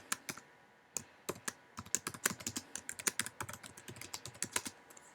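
Rapid typing on a computer keyboard, close and clear, with irregular bursts of crisp key clicks and short pauses between words.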